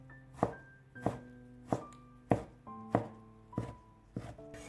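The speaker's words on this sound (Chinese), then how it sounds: "最后切成小碎丁" A kitchen knife chops potato on a cutting board into small dice, with seven or eight crisp, evenly spaced strikes close by, each followed by a short ringing tone, and no voices.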